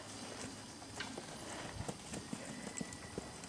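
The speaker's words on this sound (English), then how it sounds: "Ashley on Eve, who transitions to the canter." A horse cantering in an outdoor arena along a fence during a cow-work riding session, its hoofbeats landing in a quick, uneven rhythm over a steady background hum, fairly faint and at a moderate distance.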